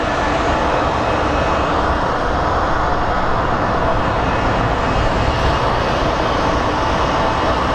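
A Southwest airliner comes in to land at Phoenix Sky Harbor in strong winds, a loud, steady engine roar with a gritty low rumble and faint whine, sustained without any speech.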